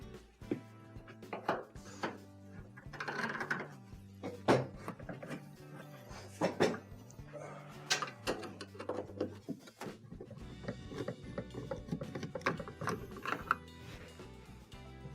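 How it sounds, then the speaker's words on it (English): Phillips screws being backed out of the console on a GE washer, with a run of small mechanical ratcheting clicks and light metallic handling noises, close and fairly quiet, no talking. "we have multiple Phillips screws in these holes. They'll have to be taken out in order to remove the console."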